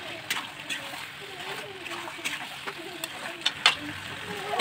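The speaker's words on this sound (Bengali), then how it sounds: "জলটা দিয়ে দিচ্ছি।" Water splashes into a chicken and vegetable curry sizzling in a pan, with intermittent slosh and frying crackle beneath someone talking.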